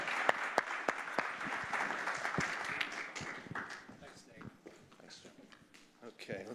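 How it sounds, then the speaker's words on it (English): Audience applause welcoming a speaker named Jim: a burst of sharp, close claps that becomes a steady round, then fades out, with a voice talking as it dies away. "let's give Jim a warm round of applause and welcome him"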